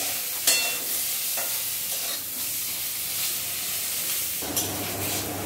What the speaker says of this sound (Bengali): বেগুনটা ভাজার সঙ্গে সঙ্গে একটু নুনটাও দিয়ে দেওয়া হলো।